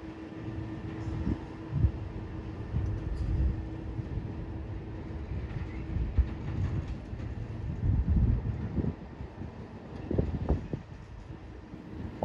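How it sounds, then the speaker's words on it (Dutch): A class 1116 electric locomotive hauls a mixed freight train through the Alpine region, passing with a steady rolling rumble and clanking wagons, broken by louder thumps and a faint steady hum, moderately distant and mixed with wind. "De 1116-284 gaat met een gemengde goederentrein op pad"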